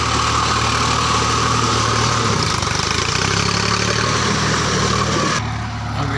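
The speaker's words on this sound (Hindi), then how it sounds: "अभी ट्रैक्टर निकल रहा है," A farm tractor's engine chugs at a steady idle close by, a continuous low throb that drops off slightly near the end, with no voices.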